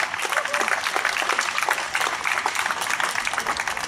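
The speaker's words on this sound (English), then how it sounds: "I'd also like to give another round of applause for John Pilger as well." An audience at a public event in Sydney applauds, a dense, steady clapping throughout with faint crowd murmur.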